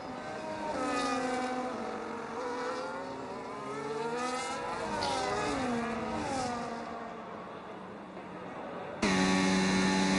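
Formula 1 cars lap Monza in a sim racing game, a Ferrari among them, with several whining engine notes rising and falling through gear changes, followed by a sharper, steadier engine tone that cuts in near the end.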